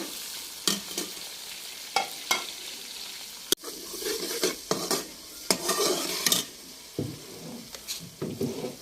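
Cauliflower rice frying in a pan with tomatoes and green chillies, a steady sizzle broken by scraping spoon stirs and occasional clinks against the pot, close and unaccompanied by talk.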